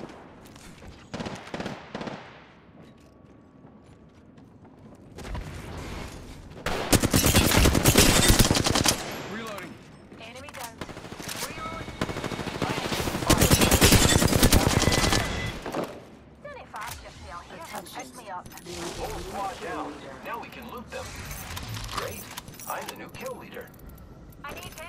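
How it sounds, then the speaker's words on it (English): Automatic gunfire from Apex Legends erupts in two long, loud sustained bursts, with scattered shorter shots and other game sounds between them. "I am taking fire, friends."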